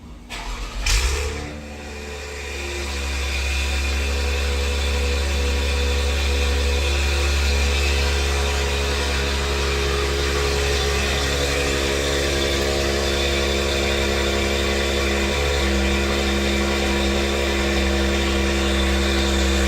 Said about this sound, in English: Let's go ahead and do a cold start on this and see what it sounds like.